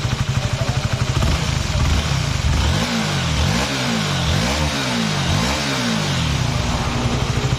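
A Honda Sonic 150 motorcycle engine with a broken balancer revs up and down in several repeated surges over a steady idle, loud and close.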